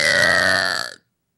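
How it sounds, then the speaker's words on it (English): A single loud belch lasting about a second, close to the microphone, with a buzzy voiced tone that cuts off abruptly into silence. "That belch describes the response."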